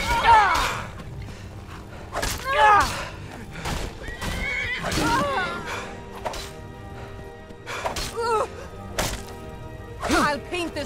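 A horse in Skyrim whinnies several times, shrill neighs rising and falling, mixed with thuds and hoof clops, and a voice talking in between.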